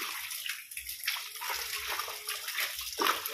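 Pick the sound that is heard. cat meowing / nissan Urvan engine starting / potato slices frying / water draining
water draining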